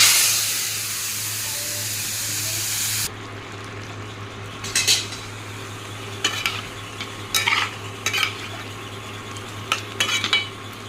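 Bottle gourd curry with panch phoron spices frying in a pan, a bright sizzle that drops away, then a series of spoon-against-pan scrapes and clinks at irregular intervals, close and alone.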